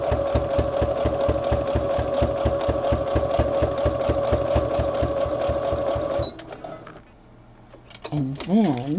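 A sewing machine stitches fabric quarters at a fast, steady, close-up rhythm for about six seconds, then stops, and a voice speaks briefly.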